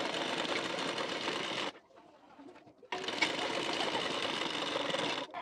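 A sewing machine stitches a blouse in a steady, close whirring run, pauses for about a second, then resumes for another continuous burst.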